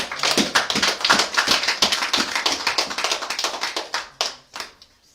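A church congregation clapping together in praise of the Lord, many hands striking in a steady, fairly quick rhythm that is loud and close, then slowing and trailing off into a few final claps.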